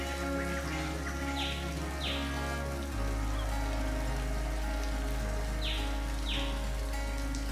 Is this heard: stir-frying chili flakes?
no